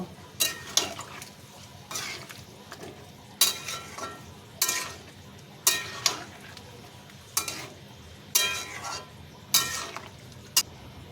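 Shukto vegetables stirred in a pan with water, salt and sugar, with a spoon scraping in about a dozen distinct, evenly spaced strokes over a faint background hiss, close and moderately loud.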